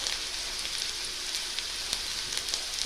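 Nigella seeds frying in hot oil with lightly browned potatoes, giving a steady, dense hiss and crackle throughout.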